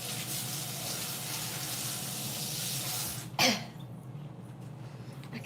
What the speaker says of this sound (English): rinse this off.